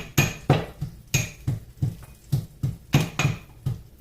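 Ginger is crushed with a pestle in a series of about a dozen sharp, evenly spaced thuds, close and fairly loud, each with a brief clinking ring.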